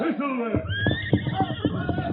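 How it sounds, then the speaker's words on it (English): A horse whinnies in an old 1950s Western radio drama, a long, high, wavering neigh followed by snorting and rhythmic breathy sounds, close and loud. "The great horse Silver followed as the ranchers rushed to Carson's side"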